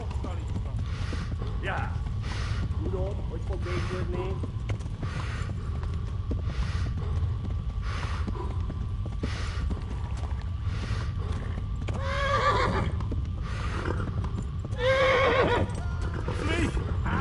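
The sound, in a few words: horse trotting and running in video game Kingdom Come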